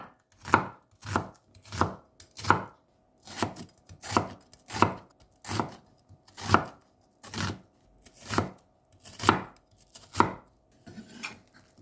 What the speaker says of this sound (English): Have 1 piece of medium-sized onion cut and chopped